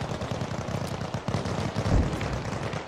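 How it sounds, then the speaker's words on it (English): Grenade blast and rapid gunfire in the military shooter game Arma Reforger, dense bursts of shots throughout with a heavier boom near the middle, no talking. "Throw a grenade down there."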